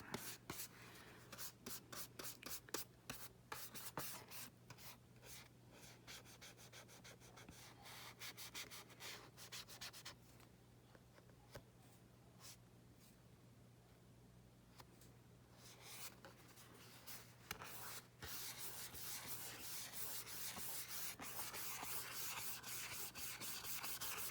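Soft, continuous rubbing and scuffing as white acrylic gesso is worked onto a mini album cover with a steady back-and-forth motion, quiet and close with a low hum beneath.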